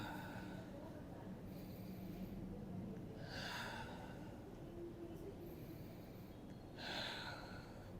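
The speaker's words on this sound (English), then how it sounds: "just take nice 3 deep breaths" Three slow, deep breaths taken during a body stretch, each a soft airy inhale-exhale swell rising out of a low steady background hum, spaced a few seconds apart and fairly faint.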